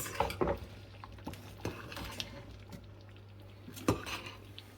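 A spoon stirs okra curry with coriander and curry leaves in a pot, producing soft irregular scrapes, wet squishes and occasional metallic knocks against the pot, fairly quiet with a low steady hum underneath.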